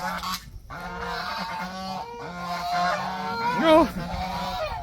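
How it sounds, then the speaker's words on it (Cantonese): Four geese walking close behind a person among lychee trees give a run of loud, nasal honks, repeated and overlapping throughout, ending in a strong, wavering call. "四隻鵝。"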